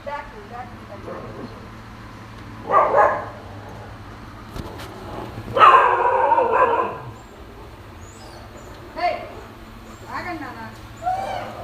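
A large, abandoned stray dog with an injured leg gives a few scattered barks and yelps, separated by quieter pauses over a low background hum.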